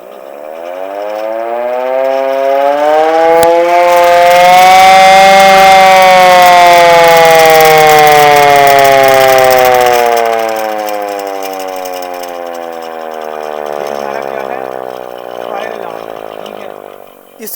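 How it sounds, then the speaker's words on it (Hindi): A fire alarm siren wails loudly during an emergency fire drill, its tone rising and holding in long sweeping cycles, then fading somewhat toward the end. "ये साउंड जो है सिर्फ फायर अलार्म का ही है"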